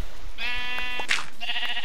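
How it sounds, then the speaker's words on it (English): Two sheep bleats in Minecraft, a longer nasal bleat followed by a shorter one, separated by a brief rustle, with steady low game background underneath and no talking. "Stupid sheep."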